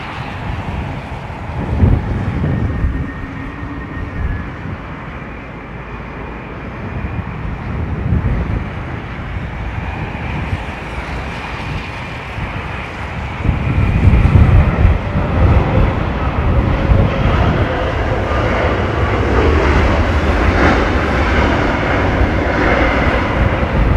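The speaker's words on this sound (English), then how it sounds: "Now these guys have been known to give it large on the reversers." An Avianca airliner from Bogota lands at windy London Heathrow, its loud jet roar buffeted by gusts across the microphone, then swelling into a heavier rumble as reverse thrust kicks in partway through.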